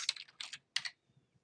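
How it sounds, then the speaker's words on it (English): Two short bursts of rapid keystrokes on a computer keyboard as a search is typed into a library catalog, close and crisp, followed by near silence, no voices. "we could type in Jefferson Davis"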